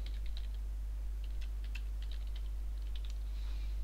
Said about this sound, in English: let's just type something